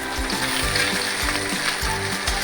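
Small puti fish frying in hot oil for a fish curry, with potato pieces nearby, giving a steady broadband sizzle punctuated by regular low clattering stirs or scrapes, close and continuous with no talk.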